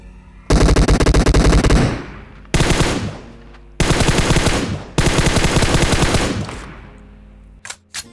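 Automatic gunfire in the PUBG video game, several long rapid bursts, loud and close, separated by brief gaps and ending with a few quieter clicks.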